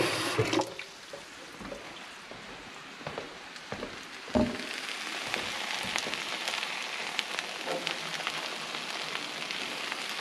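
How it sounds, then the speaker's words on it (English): Water runs from a tap into a pan holding leftover egg, a steady close splashing hiss lasting about ten seconds with a few clunks of the pan near the start and around four seconds. "Fill this with a bit of water so that the egg that's left in here doesn't stick."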